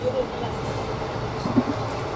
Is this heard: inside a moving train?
yes